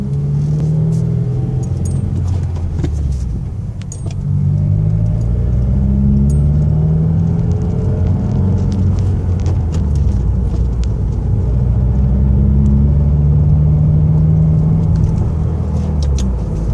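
A 2015 Subaru WRX with its muffler deleted drives under load, its loud, raw exhaust droning and rising in pitch through acceleration, with a brief dip around the shift before the engine pulls hard again.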